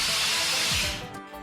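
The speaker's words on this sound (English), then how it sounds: "as the old engine discharges its final blast of steam into the night" An old steam train engine lets off a loud, broad hiss of steam that fills the clip, then eases slightly and thins out toward the end, with no voices over it.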